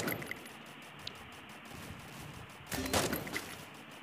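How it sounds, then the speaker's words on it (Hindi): Gunfire rattles in a Free Fire mobile battle game, with a short, louder burst of shots rising briefly above a steady background of game noise. "यहाँ पे मैं गोली चला रहा हूँ भाई"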